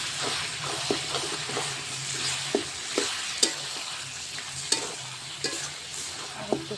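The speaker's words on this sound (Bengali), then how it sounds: "দেখো মাংসটা পুরাই কষানো হয়ে গেছে।" Meat stir-fried down in a pan, a steady sizzle broken by repeated scraping stirs and small clacks of the spatula at an irregular rhythm, close and moderately quiet, with no talking.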